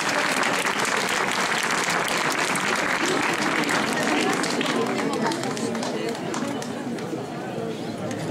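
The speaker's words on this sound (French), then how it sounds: "on les applaudit" Audience applause at the New Year's greetings ceremony of the 5th arrondissement mayor in Lyon: dense, loud, sustained clapping from a large crowd that fills the whole stretch, easing only slightly toward the end.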